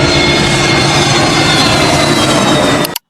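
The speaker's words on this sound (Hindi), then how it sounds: "मुंबई के हवाई अड्डे से विमान रनवे पर दौड़ता हुआ उड़ान भरता है" A fixed-wing passenger plane roars down the runway at Mumbai airport on takeoff, a loud, continuous jet engine rumble and hiss that stays steady before cutting off at the end.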